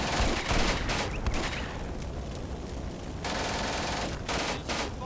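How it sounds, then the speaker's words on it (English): Machine gun fire in Combat Mission: Beyond Overlord, a WWII strategy game, with dense overlapping bursts of automatic fire and scattered shots rolling continuously at moderate loudness, like a distant firefight. "There's a machine gun somewhere."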